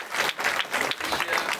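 A conference audience applauds its event staff and program manager, a steady wash of dense clapping from a crowd filling the room, continuous and fairly loud throughout with no voices over it.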